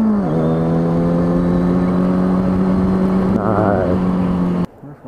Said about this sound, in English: My bike sounds in this tunnel.